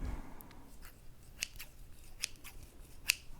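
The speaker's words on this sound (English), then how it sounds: "My kitchen scissors." Kitchen scissors being handled during a quiet whispered labeling session for spice and herb bottles, producing several soft, close metallic clicks and snips spaced irregularly over low background hiss.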